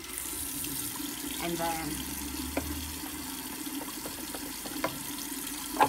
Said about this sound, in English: I just put the water on medium or cold, doesn't really matter